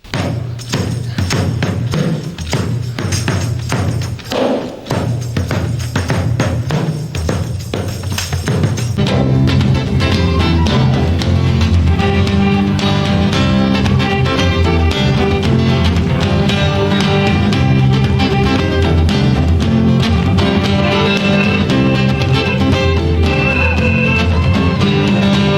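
A drum groove copies a guitar riff with tambourine on top. It starts with a sparse, punchy beat and opens into a fuller, dense, steady rhythm from about nine seconds on, loud and without speech.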